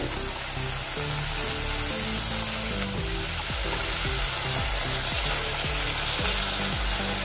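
Yogurt hitting hot fried masala in a kadhai for an aloo and soyabean vadi dum biryani, a loud, steady sizzle and frying hiss with stirring scrapes, close and continuous, with no voices.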